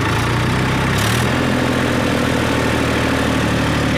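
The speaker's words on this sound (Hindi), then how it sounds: "देखते हैं ट्रैक्टर खींच पाता है नहीं खींच पाता।" A Massey Ferguson 1035 DI tractor engine pulls a cultivator in low gear at about 1500 RPM, a loud, steady, close diesel drone with a brief shift in pitch and no talk.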